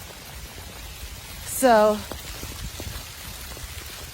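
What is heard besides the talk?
rain falling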